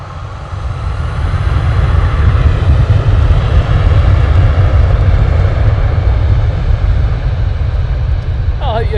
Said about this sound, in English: Ryanair now departing